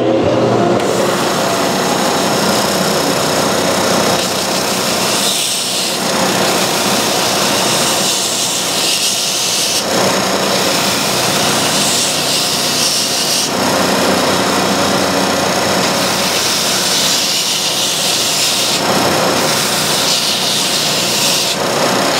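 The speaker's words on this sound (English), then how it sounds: "I'm going to sand the sides of that. So we'll put the dust collector on and go for it." Homemade sander working the sides of model car parts while a dust collector runs: a loud, continuous high-pitched whine and roar close by, shifting slightly as the part is pressed, with no speech.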